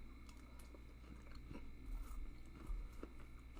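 Watermelon eaten together with crunchy peanut butter in a mukbang setting, with quiet, close chewing and a few soft bites and crunches over a low steady background hum.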